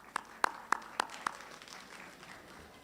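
A handful of sharp, separate hand claps ring out at a graduation ceremony for a community college class of 2022, five quick claps spaced about evenly, then they fade into quiet room tone.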